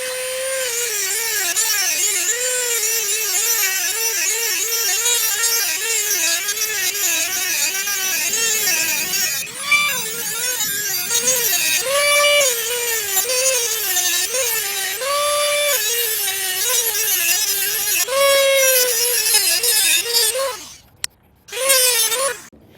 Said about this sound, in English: So I'm going to have to use the Dremel.